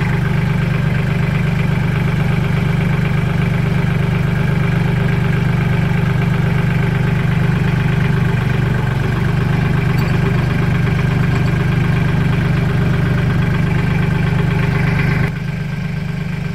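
A tractor engine idles steadily and loudly close by, a constant low chugging rumble that continues without pause.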